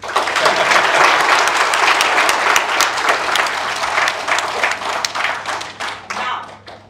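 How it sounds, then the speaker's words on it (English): Audience at an entrepreneurship panel at Great Lakes Institute of Management applauds loudly, dense clapping filling the room and gradually thinning as it fades out toward the end. "To pehle to apne liye clap karo."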